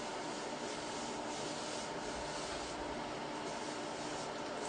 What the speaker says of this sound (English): So you want to dry brush all over your client.